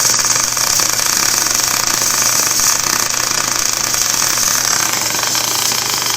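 MIG welding arc running EWM's root arc modified short-circuit process on a pipe root pass, a steady, even crackling hiss that stays loud and unbroken throughout, with a low hum underneath.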